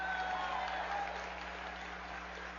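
A crowd at the 2024 Texas Democratic Convention claps in a large hall. The applause is distant and fairly faint, a steady wash over a constant electrical hum, and ends in a short loud burst.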